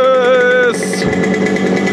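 A Yamaha RD50dx moped's two-stroke engine fitted with an HPI 2Ten ignition revs hard, a high buzzing whine that climbs, then drops into a rough, loud running note close by.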